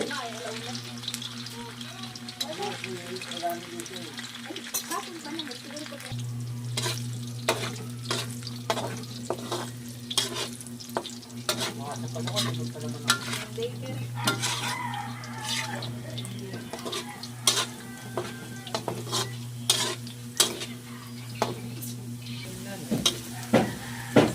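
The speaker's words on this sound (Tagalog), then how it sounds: "Atin po muna ipiprito itong ating squid ball" Squid balls fry in a pan with a steady sizzle and crackling pops, joined by scraping stirs, while a voice talks faintly underneath throughout.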